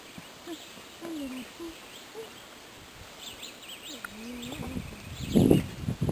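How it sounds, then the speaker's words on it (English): Birds call sparsely along the Neches River in Texas: scattered chirps and coos rise over quiet water ambience, with a louder burst of calls near the end. "The birds are calling."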